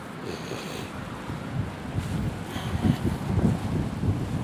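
Outdoors, wind buffets the microphone in a steady low rumble that swells and surges in gusts, growing stronger toward the end, with no voices.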